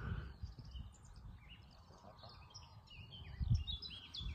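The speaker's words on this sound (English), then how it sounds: "Can you hear all them birds?" Faint bird chirps and tweets scattered high above a low outdoor rumble, with a few scrapes and a thump near the end.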